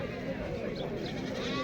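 Sheep bleat at a busy outdoor livestock market, a wavering animal cry mixed into the murmur of people talking nearby.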